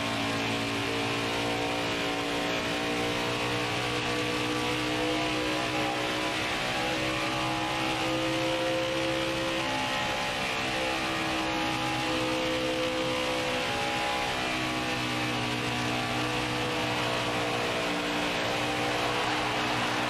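Video game race cars droning along together, a steady engine hum with layered, sustained tones that barely change in pitch, even and moderately quiet for the whole stretch with no talk.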